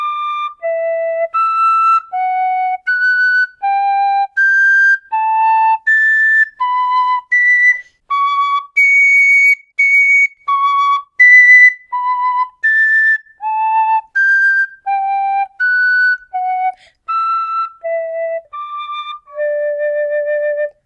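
A tin whistle playing a scale up and down in clear, separate notes, climbing into the higher octave and then descending again.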